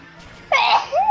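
A single sharp, loud sneeze bursts out close to the microphone after a quiet moment, followed by a short voiced sound as it trails off.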